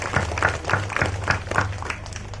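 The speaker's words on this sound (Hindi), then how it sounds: "तो संदीप कुजूर को भी हम ताली बजाकर स्वागत करते हैं" Audience clapping to welcome a guest at a church celebration for a nun's final vows and silver jubilee, a modest scattering of hand claps in a steady rhythm, fairly close and thin rather than a large crowd.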